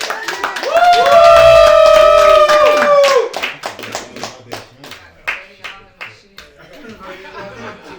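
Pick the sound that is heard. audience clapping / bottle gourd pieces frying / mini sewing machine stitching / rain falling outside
audience clapping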